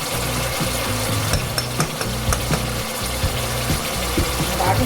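Oil sizzles and fries in a pan for lauki kofta masala, a steady loud crackle with stirring clatter throughout, no voices.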